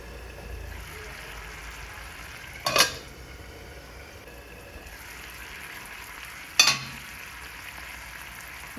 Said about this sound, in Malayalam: ഇടയ്ക്ക് ചക്കക്കുരു ഒന്ന് ഇളക്കി കൊടുക്കണം.